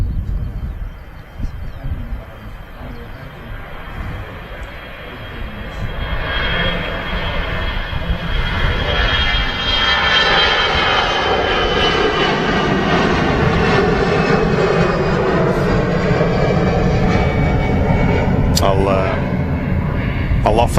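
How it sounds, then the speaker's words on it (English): EasyJet jet airliner rolling for takeoff at Manchester Airport, bound for Lisbon: a steady, building engine roar that swells and holds loud for most of the stretch, with a voice heard over it. "This EasyJet that's just on the roll is off to Lisbon."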